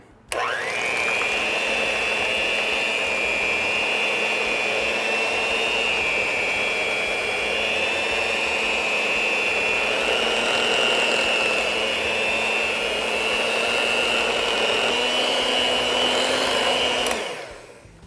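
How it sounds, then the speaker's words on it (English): An electric hand mixer whirs steadily at one loud, unbroken pitch for about seventeen seconds, blending lemon juice and vanilla in a bowl, then cuts off abruptly. "we're gonna turn the hand mixer back on and mix that up"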